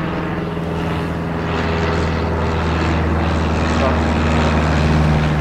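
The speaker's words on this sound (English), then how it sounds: "just as a plane's coming overhead" A steady low engine drone fills the air, a propeller plane passing overhead at moderate distance above a village, with faint background noise throughout.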